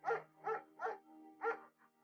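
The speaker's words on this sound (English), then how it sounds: "You adopt the German Shepherd and name him Mayhem." A German Shepherd in the video game Firewatch barks four times in a steady rhythm, each bark sharp and close, followed by a faint short yip at the end.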